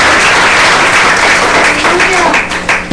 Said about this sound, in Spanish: Dale un aplauso a ese glorioso Cristo de la gloria